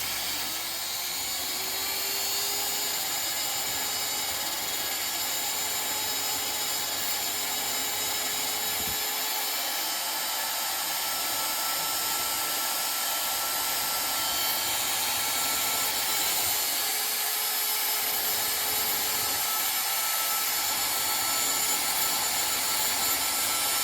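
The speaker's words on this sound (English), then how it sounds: "we're going to go back to the wire brush for that" A wire brush scrubs model railway rail and crossing castings to deburr, clean and polish them for soldering: a steady, close, rough rasping hiss that runs almost unbroken, with a few brief dips.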